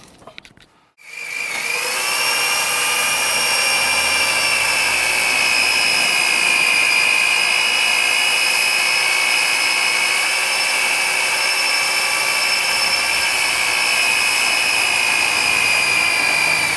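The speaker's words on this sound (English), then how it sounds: "Man, oh man, I like this drill." An old power drill bores through wood while bolts go into a trailer guard-dog base, running as a loud, steady high whine for about fifteen seconds after a brief start, with no talking.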